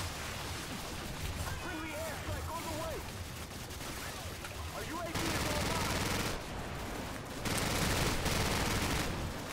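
In Call of Duty 4, a mounted machine gun turret fires sustained bursts of rapid gunfire that grow louder in two long stretches, with voices talking over the shooting.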